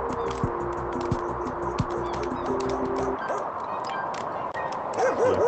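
A dog barks repeatedly in the House Builder VR video game, a run of short sharp barks and yips over steady game ambience, with a faint voice near the end.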